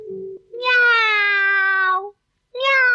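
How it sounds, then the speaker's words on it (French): A cat meows loudly and close by, a short sound followed by a long drawn-out meow, then another meow after a brief silence. "Quelque part, un chat miaula."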